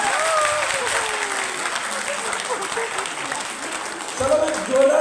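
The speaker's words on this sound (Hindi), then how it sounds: "अरे जोरदार तालियां हो जाए।" An audience claps at a motivational talk in a hall, steady moderate applause with a voice faintly audible beneath and a brief swell near the end.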